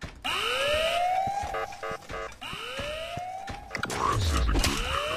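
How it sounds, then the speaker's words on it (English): Alarm siren in the Ice Scream video game, rising wails repeating about every two seconds with pulsing beeps between them, loud, with a sudden burst of noise near the end. "Sound the alarm!"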